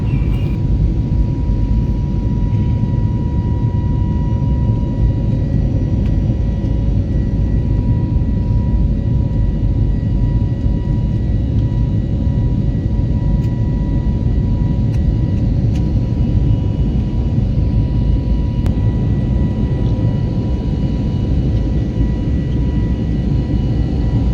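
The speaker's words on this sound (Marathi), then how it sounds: "प्लेन ने उड़ान भर ली है" Inside the cabin of a passenger airplane climbing after takeoff on a flight from Pune to Assam, a loud, unbroken low engine roar and air rush drone on evenly with no talk.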